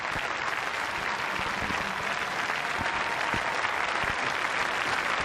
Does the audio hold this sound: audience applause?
yes